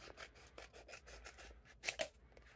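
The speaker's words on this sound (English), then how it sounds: "I'm just going to simply cut this off." Scissors snip repeatedly, close up, while trimming the backing off a two-layer vinyl decal, with rubbing and scraping between a run of quick cuts and two sharper snips near the end.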